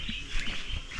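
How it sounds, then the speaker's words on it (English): Birds chirp in the woods of Guinea-Bissau with short bright tweets over a steady outdoor hiss, faint to moderate and without speech, for about a second. "Listen to the birds."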